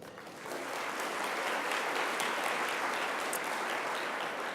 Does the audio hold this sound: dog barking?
no